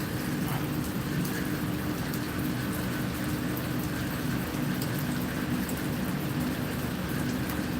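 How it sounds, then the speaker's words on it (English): Steady rain pours down in Da Nang, Vietnam, a dense continuous hiss of drops on surfaces that holds at an even level throughout, with no talking. "I'm starting to hear the rain coming down again"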